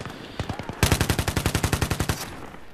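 Automatic fire from an AUG assault rifle in Battlefield 3 multiplayer. A few spaced shots come first, then a loud, close burst of about fifteen rapid, evenly spaced rounds, with a short tail after the burst.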